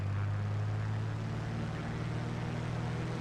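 A Cessna 185 Skywagon's propeller engine droning at takeoff power in Microsoft Flight Simulator 2024, a steady low hum with an even buzzing tone, close and constant, with no talk.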